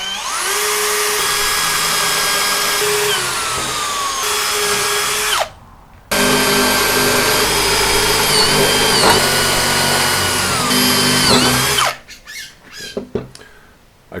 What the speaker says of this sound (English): Look from all sides to make sure I'm drilling straight down.